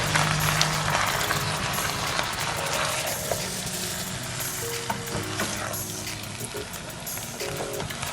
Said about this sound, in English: I'm going to stir everything now.